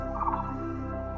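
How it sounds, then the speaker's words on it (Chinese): Small birds call at a forest campsite under trees at Wenshengzhilai in Hsinchu, a close, steady tonal chirping with a brighter flourish early on, with no other sound. "那个小鸟的声音好可爱哦"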